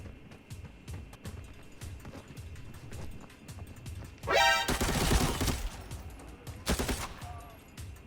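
Gunfire in the shooter game Arena Breakout: rapid bursts of automatic shots crackle over steady footstep-like rustling, with a loud sustained volley midway and another short burst shortly after, fairly close.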